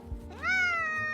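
A pet cat lets out one rising, drawn-out meow up close, clear and fairly loud against a quiet room.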